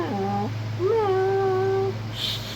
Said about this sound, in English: I see you, little kitty